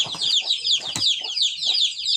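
Farm chickens cluck close by in quick, repeated bursts, with sharp rhythmic calls layered over one another for a couple of seconds.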